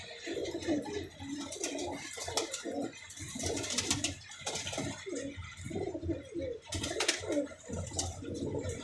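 Pigeons kept in pairs at a backyard loft coo repeatedly in low, throaty rolls, several birds overlapping close by with a few faint chirps over steady outdoor background.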